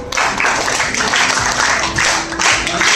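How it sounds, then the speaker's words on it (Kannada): Audience applause at a school teacher-training event: steady, dense clapping from a crowd, fairly loud and continuous for the whole stretch with no break. "ಚಪ್ಪಾಳೆ ಹಾಕಿ"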